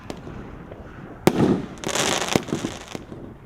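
A fireworks cake called Black Out, a 16-shot barrage, fires a sharp bang followed by bursts of crackling pops and another report, heard outdoors at moderate distance with no talking.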